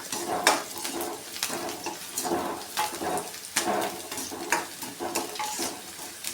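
Finely chopped onion, ginger and garlic frying in a pan for gobi manchurian, with a busy sizzle and repeated spatula stirs and scrapes against the metal at a quick, uneven rhythm, close up and without speech.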